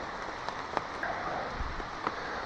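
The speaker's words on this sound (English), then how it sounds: "rain's coming down harder and harder" Rain falls on a hammock camp in autumn woods in the Catskills, a steady moderate hiss with a few louder scattered drops and no voices.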